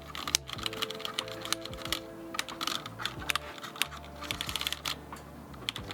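Rapid, steady typing on a Roccat Vulcan Aimo 120 keyboard, dense overlapping key clicks and clacks close up with a few heavier strokes, no voices.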